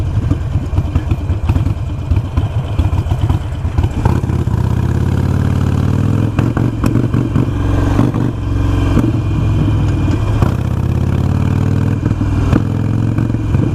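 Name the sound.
Harley Iron 883 motorcycle engine running badly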